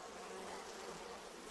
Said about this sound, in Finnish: Kumpa nuo mehiläiset rauhoittuisivat vähän.